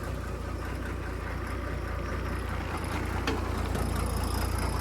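A Farmtrack tractor with a six-cylinder, 100 hp engine idles steadily, a deep, continuous rumble close by with no talking.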